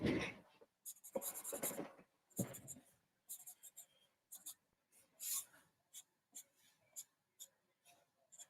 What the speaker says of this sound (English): I'm going to draw some grass in.